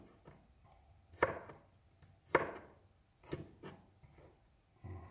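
A knife chops asparagus on a board as stuffing is prepared, giving a few sparse, fairly close, crisp thuds spaced about a second apart over a quiet background.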